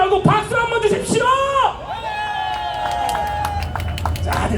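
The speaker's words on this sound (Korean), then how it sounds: "자, 생각하시라고 박수 한번 주십시오." Applause and cheering from a crowd at an outdoor candlelight rally, with yells and whoops over scattered clapping and sharp claps standing out toward the end.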